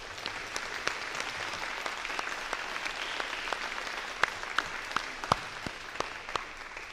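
Steady applause from a seated audience at a nursing pinning ceremony honoring practical nursing faculty, a dense even patter of many hands with a few sharper claps standing out, continuing without voices.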